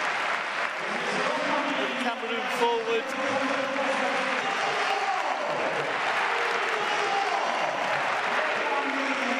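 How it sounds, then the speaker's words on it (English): Stadium crowd at a 2019 Villarreal versus Barcelona football match applauds a substituted Cameroon forward leaving the pitch, a steady broad wash of clapping and crowd noise under continuous commentary. "A round of applause"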